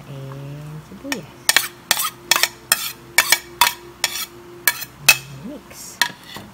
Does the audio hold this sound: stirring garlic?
yes